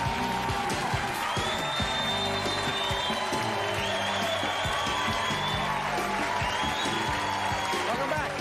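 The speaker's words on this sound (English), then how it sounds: "Ready applause" Steady studio audience applause for a 1991 television talk show, a continuous wash of many clapping hands with some cheering, while music and voices run underneath.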